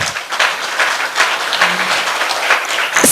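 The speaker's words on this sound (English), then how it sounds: "Give him a good round of applause." Close, loud audience applause at a climate adaptation summit, dense clapping with distinct sharp hand claps standing out near the microphone.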